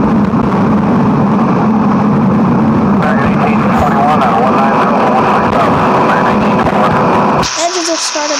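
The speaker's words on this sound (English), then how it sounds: "Engines have started back up again." Airplane engines droning loudly and steadily in a flight simulator game, a dense rumbling roar that shifts character partway through, with a voice talking over it near the end.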